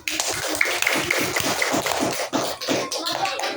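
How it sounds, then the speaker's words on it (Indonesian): A classroom of students claps hands, a brisk scattered patter of many small claps, close and fairly loud, with light shuffling and tapping mixed in. "Sip, oke, beri tepuk tangan."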